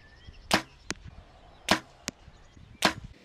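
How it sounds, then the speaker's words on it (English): Three arrows shot from a compound bow fitted with a Xero A1 sight strike a target at 25 meters, each a sharp, loud thwack followed by a quieter knock, spaced about a second apart in a quiet setting. "I now shot 3 arrows and they were accurate."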